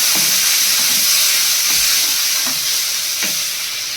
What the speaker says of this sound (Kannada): ಎಲ್ಲ ಚೆನ್ನಾಗಿ ಫ್ರೈ ಆದ ನಂತರ ಏನು ಹುಣಸೆ ಹುಳಿನ ನಾನು ಕಲಸಿ ಇಟ್ಕೊಂಡಿದ್ದೆ ಅದನ್ನು ಸೇರಿಸ್ಕೊತಾ ಇದ್ದೀನಿ